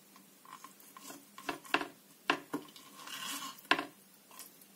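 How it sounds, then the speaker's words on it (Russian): A knife cuts fish into long strips on a board, giving a handful of sharp, irregular clicks and taps up close against a quiet kitchen background. "Вот такими полосочками нарезаем рыбку."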